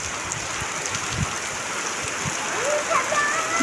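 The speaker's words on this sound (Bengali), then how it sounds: "দেখেন কি অবস্থা সকাল সকাল বৃষ্টি" Steady rain patters down in a continuous hiss, with scattered drops tapping nearby surfaces and a faint squeak late on.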